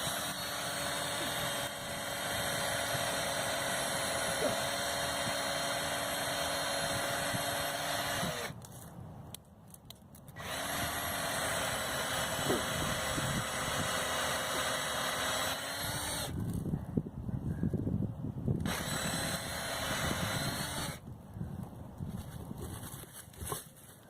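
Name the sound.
power drill drilling into tree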